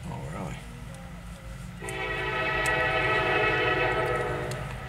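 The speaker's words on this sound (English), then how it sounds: "This is a train I think I saw in Elkhart last night." A CN freight train rolls past with a steady rumble, and its horn blares with a long, loud chord that swells as the train nears. A voice is faintly heard at the very beginning.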